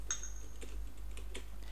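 Computer keyboard typing in a Typing Master lesson, heard as a few sparse, crisp key clicks at close range over a low steady hum, with no talk.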